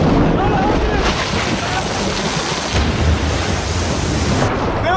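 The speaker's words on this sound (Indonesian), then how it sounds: "dalam perjalanan kapal tersebut terkena badai yang membuat kapalnya terdampar di pulau" A storm at sea batters a ship, the Black Rock in Lost, with loud, dense roaring wind and crashing water throughout, surging and steady.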